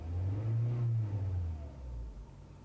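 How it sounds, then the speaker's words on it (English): A car engine revs hard and steady in neutral at close range, the deep roar holding for a couple of seconds before easing off slightly. "The engine's revving away because you're in neutral, Joan."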